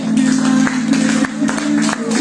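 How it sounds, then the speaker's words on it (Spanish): Dense applause from a church congregation, continuous clapping that fills the room throughout, with a low sustained tone beneath it. "Denle un aplauso al Señor."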